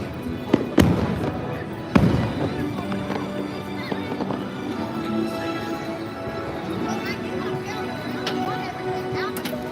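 Fireworks burst at Disney World, with two sharp booms early on and then a continuous crackle under crowd noise and nearby voices.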